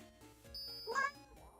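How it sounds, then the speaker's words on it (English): A house cat meows once, short and rising, close to the microphone but fairly quiet, over faint background game music. "That's my cat."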